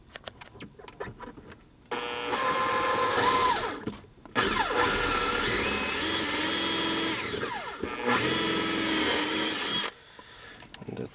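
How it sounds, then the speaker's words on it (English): A power drill bores a hole in the interior trim of a 2004–2009 Lexus GX during a Bluetooth kit install, running in three loud sustained bursts with short pauses between them, pitch shifting as the bit bites. "We're going to take our drill, kind of tilt it down here."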